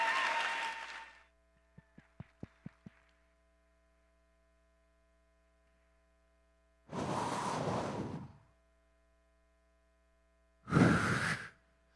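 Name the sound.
audience applause welcoming speaker Adam J. Kurtz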